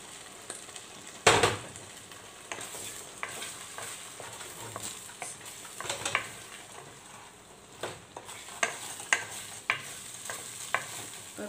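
Egg frying in oily canned sardines in a pan, a soft continuous sizzle broken by scattered spatula taps and scrapes, one louder clack early on.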